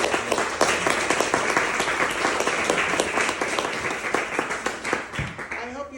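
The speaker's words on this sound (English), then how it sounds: "I hope you heard the applause" An audience at a poetry reading event gives warm applause, a dense burst of clapping that gradually thins out, with voices mixed in.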